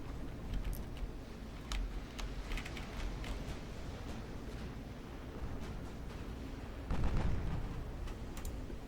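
Naval gunfire from 13-inch guns in the Ultimate Admiral Dreadnoughts warship game, a series of low booming shots and thumps over a rumbling battle bed, with a heavier blast near the end, no talking.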